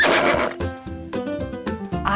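A horse neighs in a quick, wavering whinny with several rising and falling bursts, fairly loud and close, over a steady tonal background.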